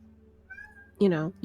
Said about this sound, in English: cat on the roof.